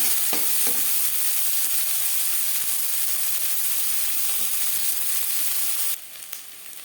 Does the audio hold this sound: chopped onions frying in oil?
yes